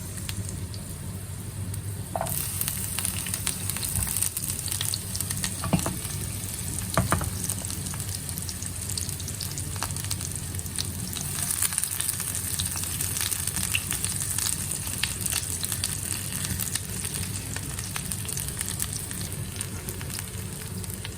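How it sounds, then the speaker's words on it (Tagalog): Garlic and onion fry in a pan for corned beef with ampalaya, a loud, continuous close-up sizzle that swells after a couple of seconds, with faint stirring taps and no talking. "magisa na po tayo. Bawang. Isusunod na natin ang ating sibuyas."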